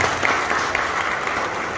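An audience at a church installation ceremony in Sukabumi, West Java, applauds a pastor, a steady wash of many hands clapping at moderate volume, sustained evenly throughout.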